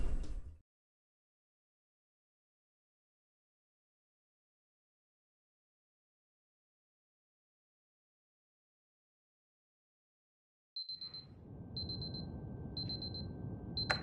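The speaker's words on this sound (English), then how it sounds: "We wanted to do a unique alarm clock for each level, but this is the only one that survived that idea." An alarm clock in a video game level beeps in short repeated bursts after a long silence, sounding over a low rumbling background.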